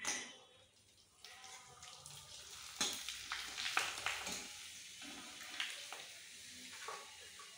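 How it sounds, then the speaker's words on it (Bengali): Papad crackles as it fries in hot oil in a pan, a soft, uneven sizzle with scattered pops, sputters and faint watery drips, heard quietly and close by. "এই দেখো আমার মেয়ে এখানে পাঁপড় ভাজছে"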